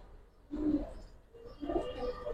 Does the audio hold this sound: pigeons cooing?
yes